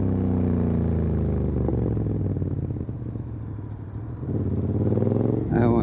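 A Honda X-ADV 750 scooter idling and shifting into first gear: a close, steady mid-pitched engine rumble with a faint dip partway through, while someone talks over it.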